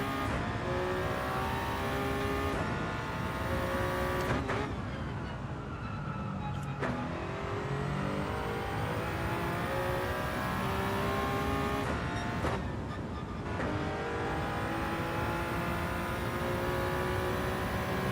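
A Toyota race car engine in Gran Turismo 7 runs loud and continuous, revving up and down through repeated gear shifts with brief drops in pitch as it brakes for corners.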